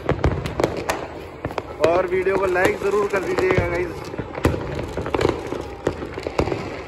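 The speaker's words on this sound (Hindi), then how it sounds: "ये देखिए कैसी चारों तरफ से आतिशबाजी हो रही है।" Fireworks crackle and pop all around during Makar Sankranti kite festival celebrations in Jaipur, with sharp bangs scattered through a constant noisy backdrop while someone talks over them.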